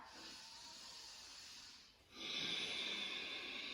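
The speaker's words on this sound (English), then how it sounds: "Perhaps you find Ujjayi breathing, your victorious or oceanic breath." Ujjayi (oceanic) yoga breathing: a steady, close, hissing breath, a brief pause near the middle, then a louder, fuller airy breath that sustains to the end, with no talk.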